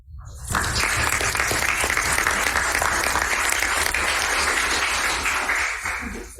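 An audience at a high school district board meeting breaks into sustained applause, a steady wash of many hands clapping for several seconds before it fades out.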